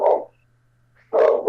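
A voice imitates a dog barking during a tabletop role-playing game session. Two short, loud, close woofs come about a second apart.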